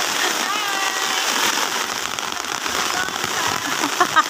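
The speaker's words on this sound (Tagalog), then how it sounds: "Umuulan dito guys." Rain in Leyte patters steadily on an umbrella made of a leaf, a dense close hiss of drops that stays even throughout, with a few louder taps near the end; a person talks in Filipino over it.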